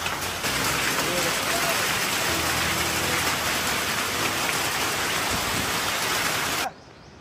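Hail pelts the road and a vehicle on a drive through Quế Phong district in Nghệ An, a dense, steady hiss of impacts lasting several seconds before cutting off abruptly.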